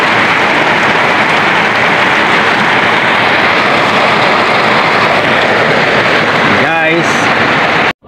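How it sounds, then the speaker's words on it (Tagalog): Heavy typhoon rain pours in a steady, dense roar, loud and close, with a brief voice cutting in near the end. "Buhos na naman ang malakas ang ulan."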